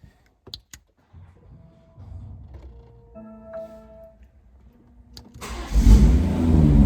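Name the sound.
BMW M140i engine starting with red start button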